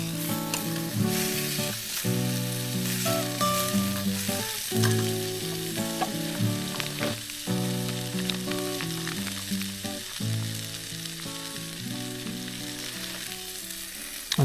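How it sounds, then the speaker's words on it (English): Food stir-frying in a pan at a campsite, a continuous loud sizzle with scraping stirs over a steady low hum, close up and with no talking. "stir fry that down"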